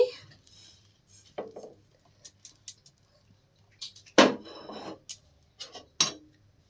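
Homemade bread crumbs poured onto a plate, giving scattered dry rattling and rubbing bursts with a few sharp clinks, close and moderately loud with quiet gaps between.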